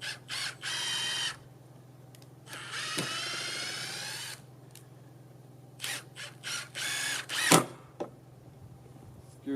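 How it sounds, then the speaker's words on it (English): A log clamp screw being cranked in on a Norwood portable sawmill cutting short logs, giving several separate bursts of squeaky, grinding metal-on-metal turning with quiet gaps between them, fairly close. "I'm going to put the screw in there."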